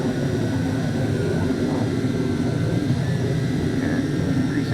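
Tarantula X6 camera drone flying low across a gully, its motors and propellers giving a steady, fairly loud broadband whir with a faint high whine that holds throughout.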